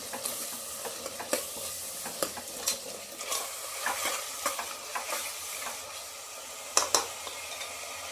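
Ground masala sautés in hot oil as a spoon stirs and scrapes the pan, giving a steady sizzle with sharp irregular knocks against the metal.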